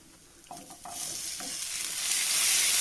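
Boiled jackfruit seeds tipped into masala frying in a pan, a few soft thumps and stirring scrapes, then steady sizzling that swells louder toward the end, close and without talk.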